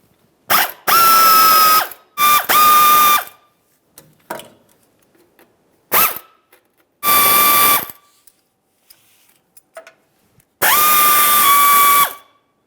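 Ratchet wrench clicks rapidly in several bursts while loosening 10mm oil pan nuts and studs on a 2005-2010 Dodge Dakota with a 4.7L V8, each spell of ratcheting close and loud with brief pauses between.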